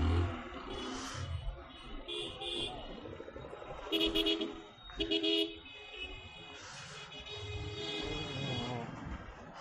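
Car horns honk repeatedly amid busy street traffic in Hazaribagh, Jharkhand, short toots and longer blasts over a constant rumble of engines, with voices faintly in the background.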